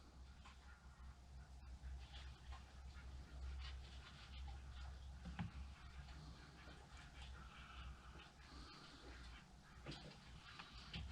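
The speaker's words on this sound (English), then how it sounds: "Ducks are playing in the pond." Ducks quack and call intermittently at a moderate distance from a pond over a soft outdoor background, with no one speaking.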